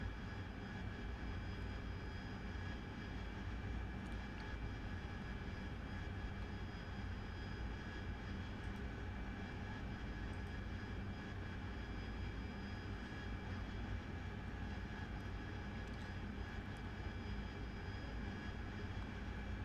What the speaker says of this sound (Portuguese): Vamos acelerar aqui para ganhar um tempinho.